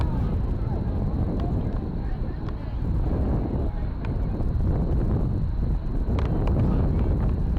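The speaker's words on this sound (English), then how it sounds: "Getting a little windy." Wind rumbles across the microphone in a steady low roar at an outdoor girls' varsity soccer game, with faint talk and occasional clicks underneath.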